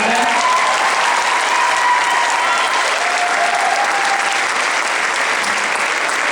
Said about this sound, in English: Nice round of applause for that.